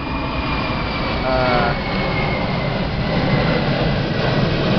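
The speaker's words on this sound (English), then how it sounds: "there's a plane coming by" An airplane passes overhead outdoors, a loud, steady broadband roar with a slight swell partway through, continuous and sustained from start to finish.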